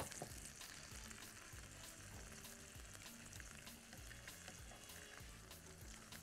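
Beef steak slices fry in a pan, giving off a dense, steady crackling sizzle with occasional louder pops and faint stirring scrapes, quiet and close with no talking.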